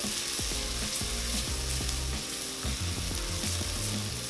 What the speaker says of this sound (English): The next step is we're going to add our pepper paste, about 2 tablespoons worth.